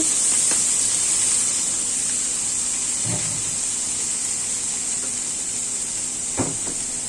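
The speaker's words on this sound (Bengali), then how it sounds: "এখন ভাজিটি ছেড়ে দিচ্ছি।" Vegetable fry sizzles in hot oil in a home kitchen: a loud, steady hiss holds throughout, broken only by a few soft thuds.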